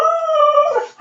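A dog lets out a single drawn-out whimpering howl, loud and close, holding a steady pitch before wavering and trailing off into a softer whine.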